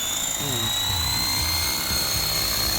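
A helicopter rotor spinning up to full speed at start-up whirs loudly and steadily up close, with a high engine whine running through it.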